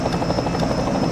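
A helicopter in an NRLA truck racing video game, with close rotor chop and engine drone rising to the foreground, steady and loud for a brief moment.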